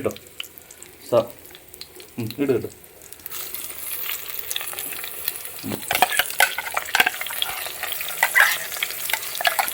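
A ground paste of onion, garlic, green chilli and ginger drops into hot oil for goat liver curry and sizzles steadily, with a few scraping stirs early on and the frying growing louder and busier afterward.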